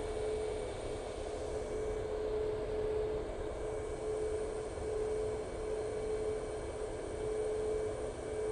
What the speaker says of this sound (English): KLM coming out in the taxi.